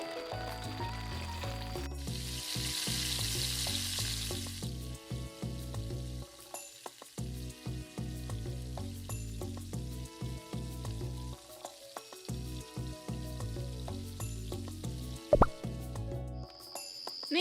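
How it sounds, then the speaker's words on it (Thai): Battered pork wrapped in fresh tea leaves fries in hot oil, giving a steady loud sizzle with bursts of crackle, a few soft utensil clinks and a brief louder hiss near the start. "นี่แล้วก็ทอดเลย"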